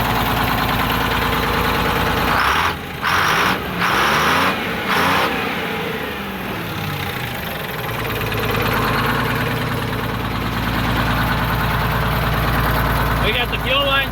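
A vehicle engine idles with its fuel lines disconnected, giving a loud, steady low rumble throughout. Someone talks over the running engine at times.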